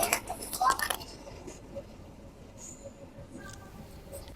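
Inside the executive carriage of the Kamandaka passenger train, a steady low rumble and hum of the moving car fills the background. A louder clattering burst comes in the first second, with faint voices in the cabin.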